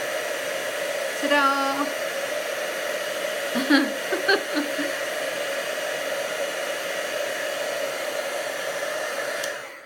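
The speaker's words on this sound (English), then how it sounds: "Heat embossing, it always gives you that little ta-da moment" A heat tool blows steadily to melt copper embossing powder during a crafting session, its constant whooshing hum running nearly the whole time, with a brief cheerful exclamation and a few small laughs over it.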